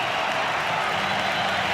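A dense, loud roar from a football crowd cheering a Melbourne goal at Olympic Park, a steady wash of massed voices and clapping filling the moment.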